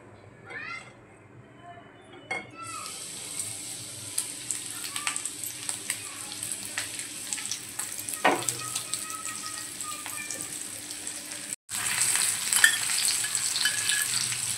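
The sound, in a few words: rava-coated pomfret frying in hot oil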